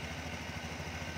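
A Honda SH Mode 2021 scooter with a failed ECM runs steadily after starting, its engine giving a constant, moderately loud mechanical drone with no talk over it.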